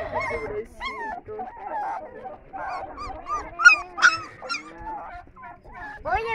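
Five puppies whimpering and yipping up close, with short high squeaks and whines scattered through, a sharper yelp in the middle, and a few quiet voices around them.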